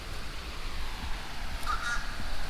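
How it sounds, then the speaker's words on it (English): A crow caws a few times from somewhere nearby at a pond where Muscovy ducks are kept. The calls are fairly faint over a steady outdoor background hiss. "Crow right over there making a bunch of noise."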